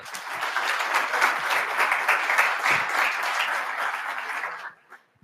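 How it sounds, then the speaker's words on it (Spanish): An audience applauds at a Mexican public forum on transparency reform, a dense, steady round of clapping that holds for several seconds and then quickly dies away into quiet. "Les pido un aplauso"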